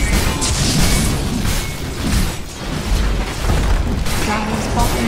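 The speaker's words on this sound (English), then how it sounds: "Dire's bottom barracks has fallen." Dota 2 base structures collapse as Dire's bottom barracks is destroyed, with heavy booming crashes and rumbling debris over busy background game noise.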